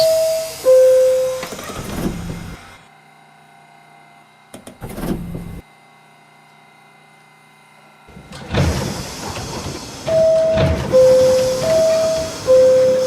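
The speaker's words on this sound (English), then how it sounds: "This is a Brooklyn-bound N Express train." A Brooklyn-bound N Express subway train in the openBVE simulator hums and rumbles with motor whine and rail clatter, fading to near silence in the middle before loud running noise resumes with rising electric tones.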